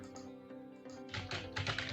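Keystrokes clatter on a computer keyboard, light and sparse at first, then a faster, denser burst of close, crisp clicks with no voices.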